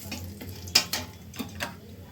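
Bay leaves and whole garam masala hitting hot oil for tempering, short sizzling bursts with a few sharp clinks of a spoon against the pan, close and fairly quiet.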